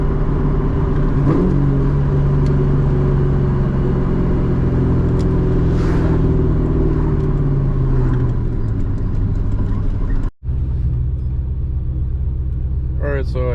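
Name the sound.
straight piped 2003 Mustang GT driving and accelerating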